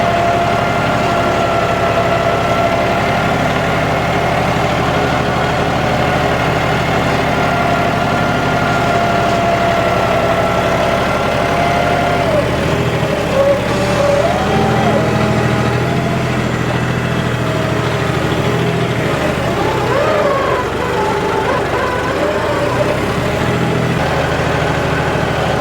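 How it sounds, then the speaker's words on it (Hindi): A John Deere 5210 4WD tractor runs continuously nearby, its heavy diesel engine holding a steady, throbbing drone with slight shifts in load and pitch partway through. "अब दोस्तों जो ट्रैक्टर है ना वो मात्र 100 RPM ड्रॉप रेट के साथ चल रहा है।"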